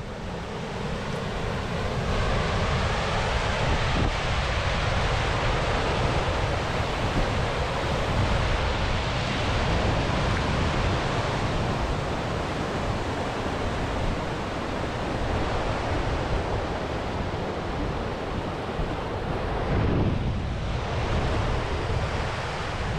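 Water at Lintrathen Reservoir in Scotland flows along and spills off into a corner, giving a steady, full rushing wash that stays constant and fairly loud throughout, with wind-like broadband noise and no talking.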